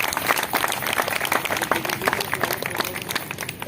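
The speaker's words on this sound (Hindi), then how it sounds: "इनका जोरदार जनसद तालियों से स्वागत है" Audience applause at a May Day labour gathering, steady dense clapping from a crowd that fills the space throughout, fairly loud and continuous with no break.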